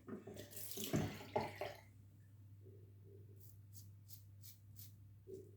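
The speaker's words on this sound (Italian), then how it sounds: "adesso ho messo un po' di acqua in più" Water runs from a tap in a strong, splashing gush for about two seconds, then drops to a quiet trickle with a low steady hum and a few faint high chirps in the background.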